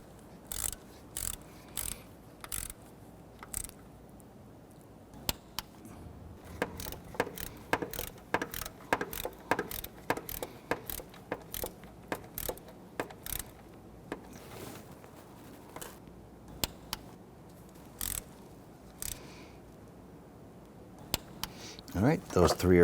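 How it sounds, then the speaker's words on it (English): A torque wrench ratchets down the water pump bolts on a 1992-1996 Toyota Camry 2.2L four-cylinder, with quick bursts of close metallic clicks repeating in irregular runs over a quiet background. "we can just torque those down normally to 82 inch-pounds as well"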